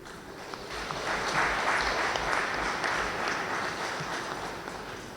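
Applause from the audience at a political congress, many people clapping in a broad rolling wave that swells after the first second and then holds steady, with low rumbles and crowd noise beneath.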